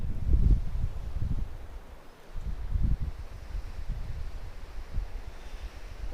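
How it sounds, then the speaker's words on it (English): Wind buffets an open outdoor landscape in low, uneven gusts that rise and fall against the microphone, steady rumbling with no other clear sounds. "and the wind."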